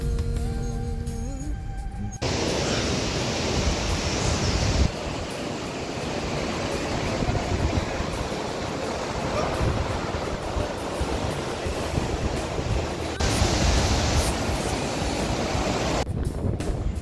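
The Spiti and Sutlej rivers meet at a confluence in Himachal Pradesh's Spiti Valley, and their rushing water makes a loud, steady roar that merges with wind noise throughout.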